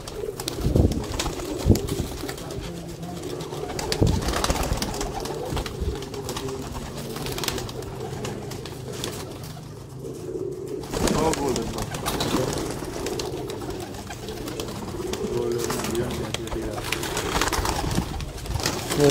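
Lakhi breed female pigeons coo in a Sialkot pigeon loft, their soft repeated throaty calls close and continuous, with someone talking over them throughout.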